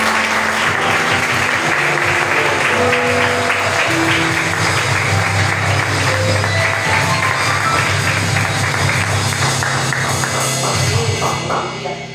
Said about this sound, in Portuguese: Aplaude o meu Senhor.